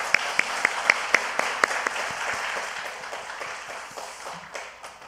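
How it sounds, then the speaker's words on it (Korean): Applause breaks out in a church after a revival-meeting sermon as the congregation thanks the worship, accompaniment and broadcast teams. A few sharp claps ring out first, then a dense, steady round of clapping that slowly fades. "우리 찬양팀, 반주팀, 방송팀 우리 수고한다고 박수 한번 격려하겠습니다."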